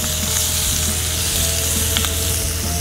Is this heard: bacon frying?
yes